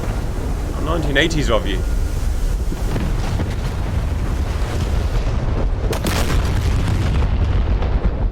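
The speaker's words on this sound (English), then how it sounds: "someone's dropping laser guided bombs" Laser-guided bombs explode in an F-35 air-combat video game, heard as muffled rumbling booms under steady wind-like roar, with a voice talking over them.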